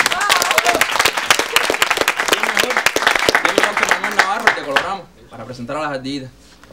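Audience applause rings out over an upbeat song for most of the stretch, fairly loud and dense, then breaks off near the end as a voice takes over.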